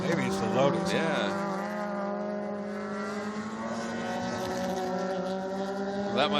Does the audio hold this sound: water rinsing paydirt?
no